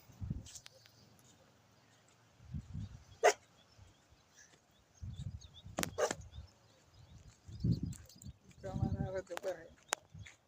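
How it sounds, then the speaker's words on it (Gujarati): Dogs whine and whimper beside a canal outdoors, in short intermittent bursts with a bark or two, while a person talks nearby. "જુઓ કૂતરા મારા રડકાય છે"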